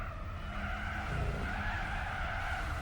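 In Gran Turismo 4, during a Supercar Festival race, car tires skid and squeal under hard braking, a sustained tonal screech over the engine's steady drone with no talking.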